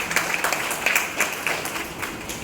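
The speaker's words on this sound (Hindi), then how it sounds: "जोरदार तालियों से स्वागत करिए हमारे प्राचार्य महोदय" An audience at a school induction ceremony claps to welcome the principal, a brief burst of scattered, uneven hand claps with distinct individual slaps, fairly close and lively.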